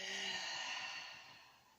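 One long, soft exhale during a stretching exercise, a breathy airy sigh that fades gradually over about two seconds, heard close with no speech.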